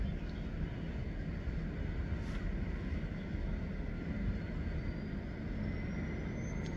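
A LifeFlight medical helicopter sits on the helipad at St Margaret's Hospital, giving a steady, droning rumble that holds evenly from start to finish with no speech.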